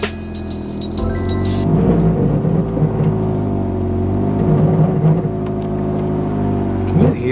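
A Nissan 240SX reversing with a strange noise, a steady close engine drone with a sustained whirring whine layered over it and slight swells in pitch, loud and continuous with no talk.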